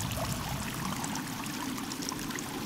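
Water flows through a cave in the video game Sons of the Forest, a steady, even rush and trickle that fills the whole stretch without pause or voices.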